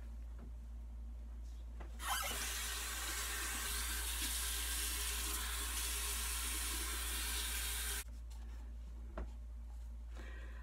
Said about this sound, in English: Rinse my hair out the first time with hot water because I gotta get all this chemical out of